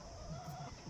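A rooster clucks softly and briefly, close by, over a low hum of background noise; one of three roosters shown for sale.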